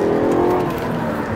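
A 2003 Mercedes-Benz S500 W220 saloon accelerating from a standstill to about 40, its engine note rising steadily and heard close and continuous with no talk over it.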